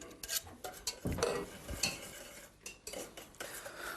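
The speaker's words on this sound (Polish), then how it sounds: "Cały czas mieszając i wydłubując potem wszystko dokładnie." Lemon cream being stirred in a pot, a spoon scraping and clinking against the metal sides in quick irregular strokes, close and fairly quiet, with no voices.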